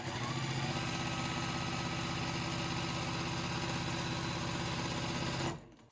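A sewing machine stitching long fabric strips together, a loud, steady, rapid mechanical whir running close and unbroken before stopping abruptly near the end.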